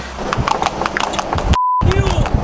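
Horse hooves clip-clop past on a road in Africa, a series of sharp, evenly spaced knocks close by, heard under people talking, with a brief dropout midway.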